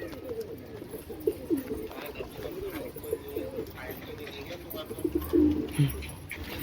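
Pigeons coo in low, throaty, repeated bursts nearby, their calls overlapping and rising toward the end, while people talk quietly in the background.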